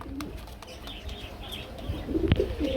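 A pair of white German pigeons kept in a cage at a farm coo and call, soft repeated cooing near the microphone with a louder burst toward the end over low background noise.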